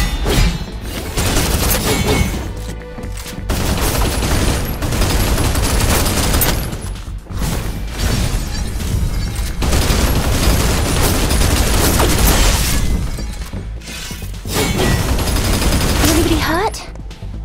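Sustained gunfire in the shooter Snowbreak: Containment Zone, with dense loud bursts and fusillades broken by brief pauses and occasional thuds, while a voice speaks briefly.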